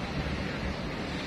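Steady wind gusting across an outdoor bonsai and orchid exhibition at a sports hall grounds in Tulungagung, buffeting a tent and the microphone; loud, continuous broadband rush with no clear breaks.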